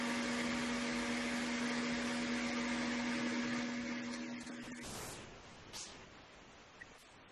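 A vacuum cleaner roars steadily with a constant motor whine over a conference call line, then cuts out near the end, leaving faint background noise and a couple of brief knocks.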